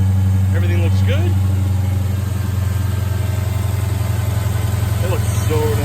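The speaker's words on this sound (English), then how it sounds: "All right, start the engine." A Dodge Charger Hellcat engine rumbles at a loud, steady idle close by with a deep, even throb, while people talk over it.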